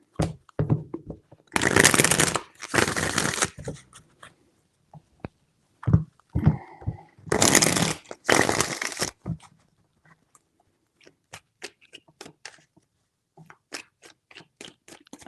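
Tarot cards are shuffled in several loud, rapid riffling bursts separated by short pauses, followed by scattered light taps and card handling.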